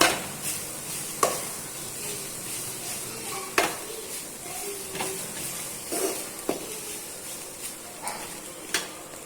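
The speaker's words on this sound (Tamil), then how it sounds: "தேங்காய் துருவலை துருவி அதில் போட்டு நல்லா வதக்கி எடுத்துடலாம்" Grated coconut and greens being sautéed in a pan for a leafy spinach-style kootu, with a soft steady sizzle and occasional scraping stirs and clinks of a spoon against the pan, no talking.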